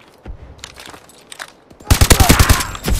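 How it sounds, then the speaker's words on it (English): Shotgun blasts in Call of Duty: Advanced Warfare multiplayer, a rapid run of loud, close, punchy shots packed into the last second and a half, preceded by quieter game effects. "I'm gonna use a shotgun."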